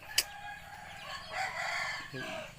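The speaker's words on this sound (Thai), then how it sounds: "ไก่แม่ลูกน้อยนะครับตัวนี้" Hen on a Thai farm, a breeding mother hen, clucking close by with a short sharp call, accompanied by other chicken sounds and some background noise.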